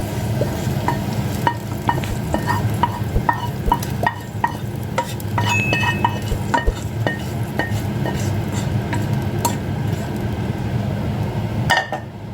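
Sautéed vegetables stirred into rice in a metal pot for Jaffna-style mixed vegetable rice, with steady rhythmic clinks and scrapes of a ladle against the pot over a low sizzle, loud and close throughout.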